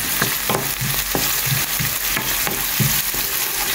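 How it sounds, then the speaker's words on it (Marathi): Finely chopped onions fry in hot oil, hissing steadily while a spoon stirs and scrapes the pan in repeated, rhythmic knocks, all close and loud without speech. "तेल जाला हिंगा बरें गरम. तर घालता हितून onion finally chopped onions guys."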